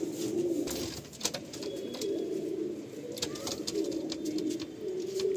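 Black pigeons coo softly, with low rolling coos that repeat steadily through a quiet loft, along with occasional faint clicks and rustles.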